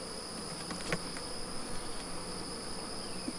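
Honey bees buzz in an opened, resource-starved hive during a nectar dearth, a steady, close droning hum with occasional louder passes of individual bees.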